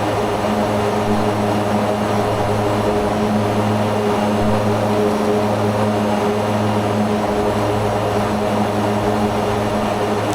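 A Mitsubishi MU-2B-60 turboprop in a flight simulator, running in reverse thrust and then ground idle after landing, a loud continuous engine drone with a steady propeller hum that shifts slightly in pitch, with no talking.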